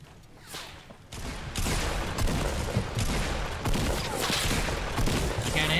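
Sustained bursts of automatic gunfire in the online shooter Fortnite during a duos match, loud and continuous with rapid overlapping shots and brief pauses, with no talk over it.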